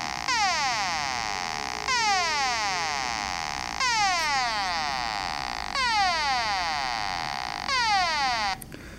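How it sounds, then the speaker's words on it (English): A Korg Monotron synthesizer repeatedly sweeps its pitch from high to low in a slow, siren-like cycle, with about five buzzy descending sweeps sounding close and steady over a faint background hiss. "It goes from a higher frequency to a lower frequency."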